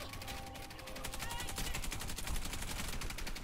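Stechkin APS pistol firing in Warface, rapid full-auto bursts of sharp crackling shots that grow louder and denser partway through, with no talk over them.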